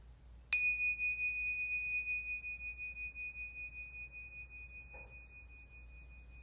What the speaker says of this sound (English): Returning back to your heart with the sound of the bell.